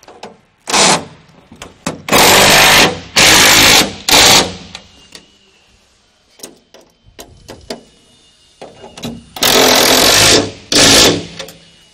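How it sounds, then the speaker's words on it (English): Cordless impact driver with a 7/32 Allen bit tightening bolts on a rock guard, loud close bursts of rapid hammering rattle, several separated by pauses with small clanks of handling between. "You can use your impact and your 7/32 Allen, and you can just insert and tighten these up as we go."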